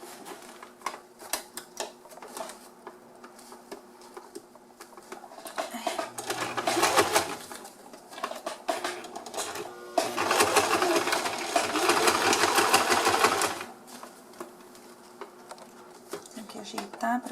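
A sewing machine stitches bias binding onto a homemade lunch-box carrier, running in two loud, fast bursts separated by quieter handling and fabric rustling.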